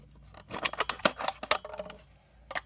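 An Emerson CQC7V clone folding knife with a 7Cr17MoV blade cuts through thick plastic in a burst of sharp, close snipping and crunching strokes, then a short pause and one last cut.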